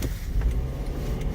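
A car rolls through a residential neighborhood, a steady low engine rumble and road noise heard from inside, continuous and fairly loud with no voices.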